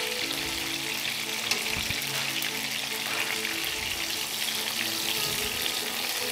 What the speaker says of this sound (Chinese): 没错，我们要把它煎。